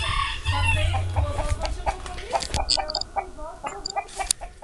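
A rooster belonging to a farm near Chácara São Sebastião clucks in short repeated calls up close, with a brief crowing burst at the start and faint background noise.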